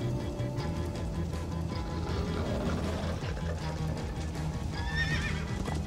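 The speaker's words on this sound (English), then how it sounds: "Grab a horse!" Horses in the video game Minecraft: Story Mode, a loud whinny rising over steady clip-clop hoofbeats and rumbling game sound, with no talking.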